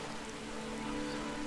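Steady rain falling in a TV drama scene, a soft continuous hiss with a faint low hum beneath it, no voices.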